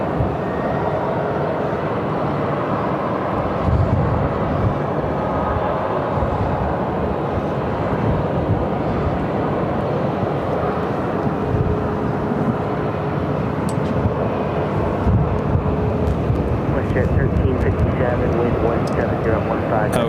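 American Airlines Airbus A321-200 jet arriving at Phoenix airport gives a loud, continuous engine roar and rumble throughout, with talk over it.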